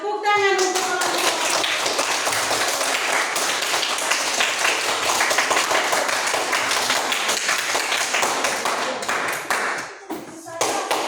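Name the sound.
classroom applause for a group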